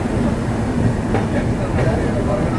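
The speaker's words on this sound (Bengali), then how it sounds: "হাওড়া পুন্ডুচেরি সাপ্তাহিক এক্সপ্রেস" The Howrah–Puducherry weekly express rumbles steadily at Visakhapatnam station, a dense, loud rolling noise with a couple of faint clanks.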